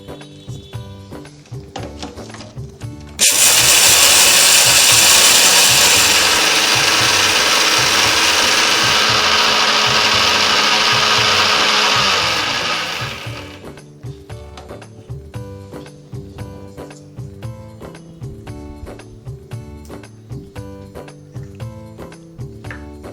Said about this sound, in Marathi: आता बारीक वाटून घेऊ